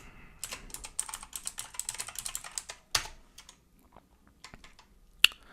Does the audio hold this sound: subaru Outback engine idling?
no